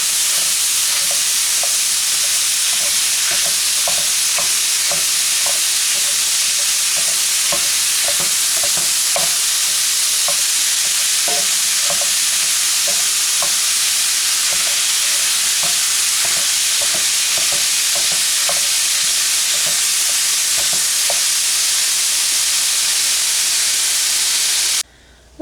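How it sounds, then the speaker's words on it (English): Hamburger meat for a cabbage roll casserole frying in a pan, a loud continuous hissing sizzle with frequent rhythmic scrapes and taps from stirring throughout, cutting off abruptly at the end. "my hamburger's cooking"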